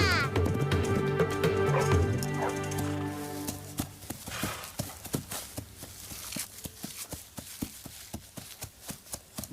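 A horse gallops with a rider aboard in an animated children's story, hoofbeats pounding in a quick rhythm that grows sharper and more distinct after music and dialogue fade early on.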